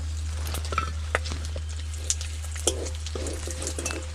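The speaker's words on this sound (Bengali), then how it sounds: "মাছের তেলের মধ্যে দেখুন গোটা গরম মশলা দিয়ে দেবো" Whole spices of cumin, cardamom and clove frying in oil left from cooking fish for a jackfruit and prawn curry, with a steady close sizzle, scattered pops and light stirring clinks against the pan, no voices.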